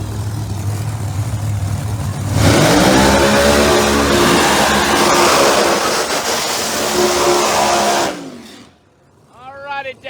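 Pro Mod drag race cars at a Northeast Outlaw Pro Mod elimination round, a loud roaring launch and sustained full-throttle howl that drops away sharply, followed by a brief distant engine rev.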